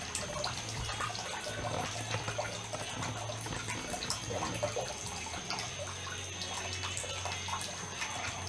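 Water runs steadily from a tap among mop buckets as its pressure drops, a continuous close hiss and splash with faint drips, without talk.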